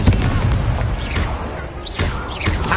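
An Incendio fire spell is cast in the Hogwarts Legacy video game on PS5, a loud whooshing, booming burst of flame layered over dense, rumbling combat noise for a few seconds, with no talk.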